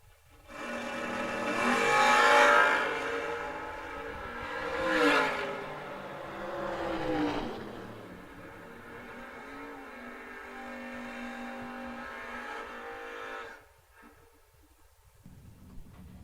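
Camaro and Firebird drag race cars at a Georgia memorial race accelerate hard off the line, engines roaring loud and rising, then holding a steady drone down the strip before cutting off abruptly near the end.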